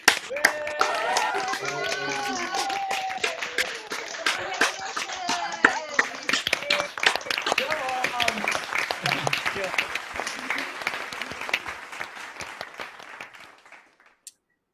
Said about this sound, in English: I now warmly welcome you to unmute yourselves and cheer and clap for each other.